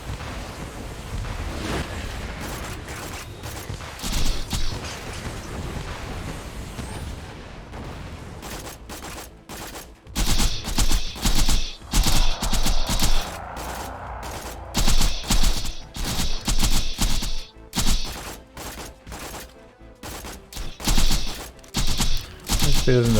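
Turret gunfire in Borderlands 2 erupts in repeated sharp, loud volleys against Saturn bots, choppy bursts separated by brief gaps over a rushing, noisy combat background.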